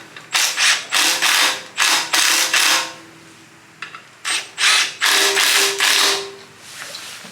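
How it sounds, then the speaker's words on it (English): Impact gun tightening clutch pressure plate bolts on a K-Series K24A with a chromoly flywheel, about a dozen close rattling bursts in two groups, each short, loud and alone. "So I'll just put these 2 in first before I could use the gun"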